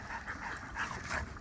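A puppy whimpers faintly, giving soft, high, repeated whines with short yips, close and quiet, with no talk over it.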